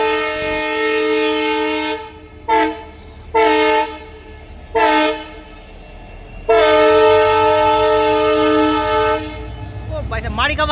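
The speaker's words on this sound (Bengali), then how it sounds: "ইন্ডিয়ান রেলওয়ে দেখছেন তো কত বড় ট্রেন মারছে রে" An Indian Railways train sounds its loud horn as it passes: one long blast, three short bursts, then another long sustained blast, all over a steady low rumble of the moving train.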